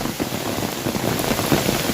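Steady rain pours down in Gir, a dense continuous patter on surfaces, fairly loud and close with no voices.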